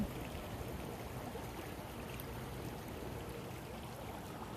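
Soft, steady rush of creek water flowing near a willow tree outdoors, a continuous faint wash with no voices.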